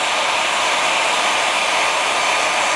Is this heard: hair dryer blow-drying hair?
yes